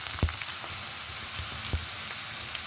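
Okra (bhindi) frying in a pan for masala bhindi gives a steady, close sizzle with scattered sharp pops and crackles, no voices.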